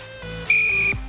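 A single short, shrill whistle blast blown as a test during a casual street football-tennis game, close and clear, lasting under half a second.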